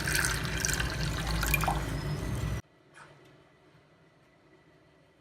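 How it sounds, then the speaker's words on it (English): A cup of water poured into a cooking pan for beetroot leaves soup, a steady splashing pour that stops abruptly, followed by faint drips. "In a pan, add 1 cup of water."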